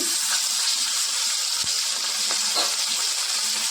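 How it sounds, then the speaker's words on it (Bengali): A hilsa fish head fries in hot oil in a wok, producing a loud, continuous hissing sizzle close by, with a couple of brief crackles. "কড়াইতে তেল গরম হয়ে গেছে আগে একটু মাছের মাথাটাকে একটু ভেজে নেবো"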